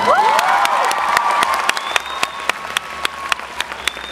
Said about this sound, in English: Give her another big round of applause, everybody.